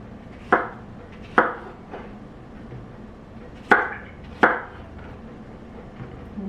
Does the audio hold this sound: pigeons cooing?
no